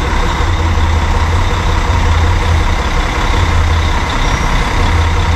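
A Gadotti coach bus engine idles close by, a steady low diesel drone holding at an even level throughout.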